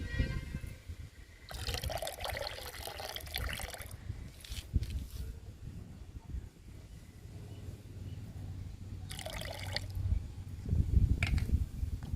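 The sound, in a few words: coffee powder liquid mixed into a bucket of water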